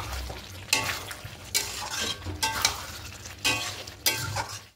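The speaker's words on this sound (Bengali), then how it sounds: "আলুগুলো দিয়ে খুব ভালো করে মিশিয়ে নেব।" Potatoes are stirred into oily spiced masala in a pan, with about five distinct scraping strokes over a soft sizzle, heard close and clear with no talk.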